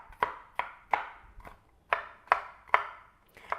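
Walnuts are chopped with a knife on a board, eight crisp, fairly even thuds spaced about half a second apart, close and clear with nothing else around them.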